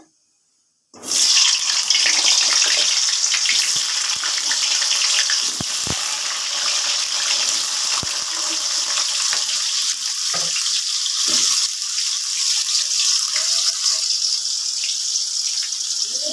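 Potatoes go into hot oil tempered with nigella seeds and spices, followed by a loud, continuous frying hiss that starts abruptly after a brief silence and stays close for the rest.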